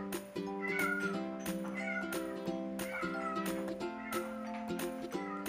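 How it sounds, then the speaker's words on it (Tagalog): A cat meows repeatedly in clear, close calls that rise and fall, layered over steady background music; several distinct meows spread evenly across the few seconds. "Pusa ako nag-iingay na."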